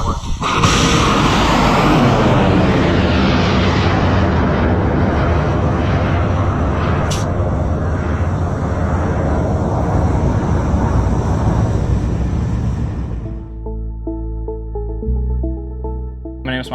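The Deneb 2 rocket launches from a Mojave Desert launch pad with a loud, sustained roaring rumble. The blast holds steady for about thirteen seconds, then gives way abruptly to quieter tones.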